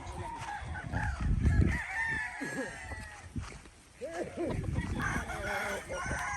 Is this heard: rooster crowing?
yes